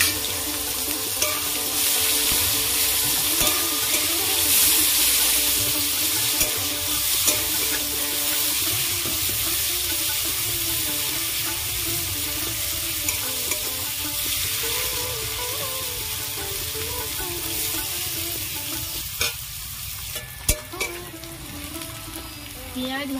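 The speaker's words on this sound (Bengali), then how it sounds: "ফোড়নে দেবো শুকনো লঙ্কা, তেজপাতা, গোটা জিরে, পেঁয়াজ কুচি দেবো" Dry red chillies, bay leaf, whole cumin and chopped onion fry in oil in a home kitchen pan. The sizzle holds steady for over twenty seconds, with occasional stirring clinks and a brief tap-like knock near the end. Nobody speaks.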